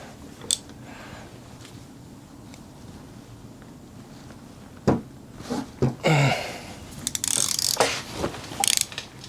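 Socket ratchet wrench working on a motorcycle rocker box of a swap meet chopper, a few quick metallic ratcheting clicks and clunks bunched in the second half amid soft shop handling noise.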